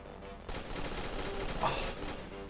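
Rapid gunfire from a Unity video game AI demo, a dense continuous burst of shots at steady loudness for the whole stretch, no talking.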